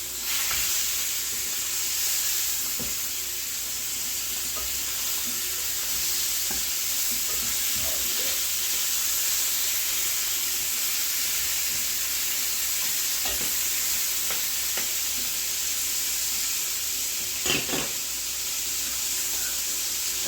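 Lamb loin chops with rosemary sizzle in a pan with a soft, steady hiss and occasional small crackles and pops. No voices are heard.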